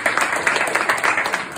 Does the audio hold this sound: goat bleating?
no